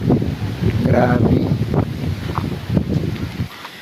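Strong gusts from a super typhoon roar and buffet the microphone continuously outdoors, rising and falling, while someone talks over the wind.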